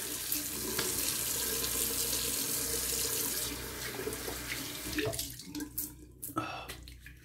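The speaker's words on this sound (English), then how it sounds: "We'll do a cold water rinse because I don't have any other option." Cold tap water runs steadily into a sink with a full hiss for rinsing after a straight razor shave, then breaks up into splashes and drips as the flow is interrupted.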